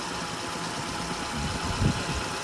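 A 15-year-old car engine idles steadily during a carbon cleaning treatment, a close, even low rumble with a slight swell near the end, no talk.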